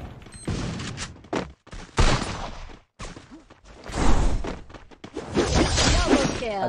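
Bursts of video game gunfire and crashing impacts come in rapid volleys, with short gaps between them and a voice briefly heard among the shots.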